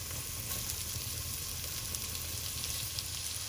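Chopped onions and the white parts of spring onions sautéing in a pan, a steady close sizzle with occasional soft stirring crackles, no voices over it.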